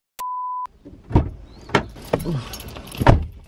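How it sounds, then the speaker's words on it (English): Someone getting into a car: a clean electronic beep tone, then several heavy thuds and rustles of the door and seat nearby, ending with a solid door slam. "So I just got in the car."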